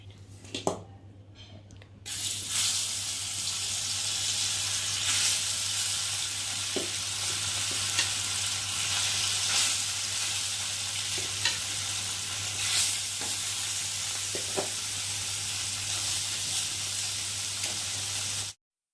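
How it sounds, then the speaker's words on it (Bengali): Bhola fish frying in hot oil, a steady loud sizzle that starts after a brief quiet opening and runs unbroken to the end, with occasional clinks and scrapes in the pan and no talking. "আর আমি এখন মাছগুলো একে একে দিয়ে ভেজে নেব"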